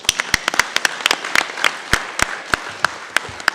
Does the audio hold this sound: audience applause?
yes